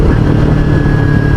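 A Kawasaki Ninja 300 engine runs steadily while riding, a loud, close, continuous hum with no talk over it.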